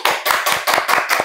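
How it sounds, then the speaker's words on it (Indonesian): A small studio audience at an Indonesian talk show claps in brief unison bursts, about six sharp rhythmic beats close to the microphone. "Oke, tepuk tangan dulu dong."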